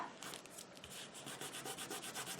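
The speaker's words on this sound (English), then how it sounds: "Just gonna squeeze that around. Make sure that's glued down well." A hand rubs and smooths paper to spread glue on a junk journal cover, giving a soft, steady, rhythmic scuffing close by with no talk.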